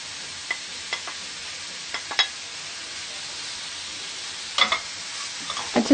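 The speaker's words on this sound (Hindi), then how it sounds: "अब हमने जो चिकन बॉईल करके रखा हुआ है वो इसमें शामिल करेंगे।" Boiled chicken tipped into a pan of chicken and vegetable macaroni, giving a steady low frying sizzle broken by a few soft stirring clicks and scrapes, with no talk.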